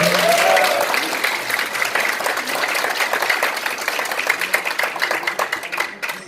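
Dense, steady applause from a crowd of fan-club members at a singer's regular fan meeting, continuing evenly before thinning near the end.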